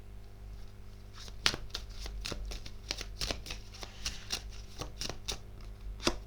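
Tarot cards are shuffled by hand, producing a quick series of crisp riffling snaps and slaps at close range, with no talk.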